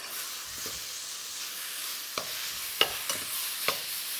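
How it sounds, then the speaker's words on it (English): Kimchi pork sauce hitting a smoking hot wok gives a steady broadband sizzle and hiss, with a few sharp crackles and spatters near the end; no one speaks. "Your wok's really nice and smoking hot. Your sauce can go in."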